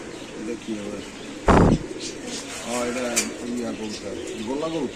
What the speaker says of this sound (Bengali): কত সুন্দর কবুতর দেখেন